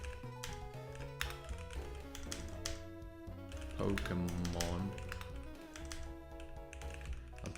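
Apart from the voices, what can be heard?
typing on a computer keyboard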